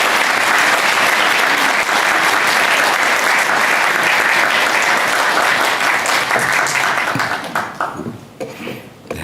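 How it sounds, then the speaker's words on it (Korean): A church congregation at a Sunday morning service claps loudly to welcome the preacher to the pulpit, a thick, even wall of applause that holds for about eight seconds and then tapers off. "나오실 때 박수로 환영해 주시기 바랍니다."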